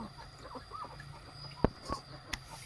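Faint chickens clucking in the background, with a few short sharp squawks standing out against a quiet outdoor hum.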